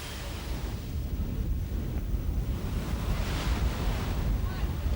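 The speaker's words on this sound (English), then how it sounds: "Wind can be a nuisance," Gusty wind in Singapore, buffeting roughly with low rumbling surges that rise and fall over several seconds, a steady noisy rush with no clear voices.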